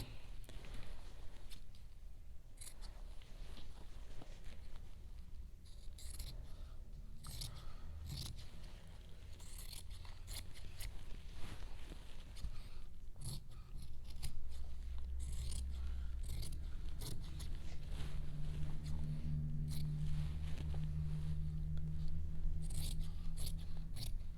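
Scissors snip through a traced fabric pouch piece for a refillable catnip cat toy, a steady close run of short crisp cuts and faint scraping with no talking, joined later by a low steady hum.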